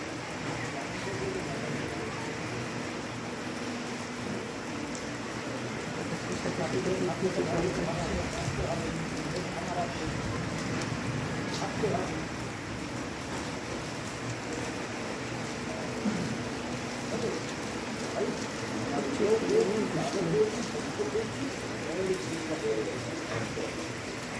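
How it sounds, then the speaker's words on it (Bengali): Heavy rain pours down during a Kalbaishakhi storm, a dense, steady hiss of drops hitting surfaces that swells slightly toward the end, with no clear voices. "প্রচুর পরিমাণে বৃষ্টি হচ্ছে, ভালো হচ্ছে।"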